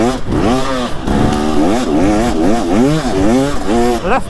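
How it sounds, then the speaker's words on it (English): A two-stroke dirt bike engine revs hard and repeatedly up close, its buzzing pitch climbing and dropping in quick, rhythmic bursts that crackle throughout. "that freaking sound of the two-stroke, it just gives you such a joy"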